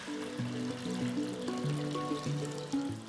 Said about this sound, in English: after closing the strainer over the pot like this, I practically filter the water